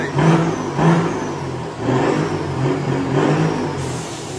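A Chevrolet Silverado truck engine tuned to over 400 hp revs in repeated rising and falling pulses, loud and close, with no talk over it.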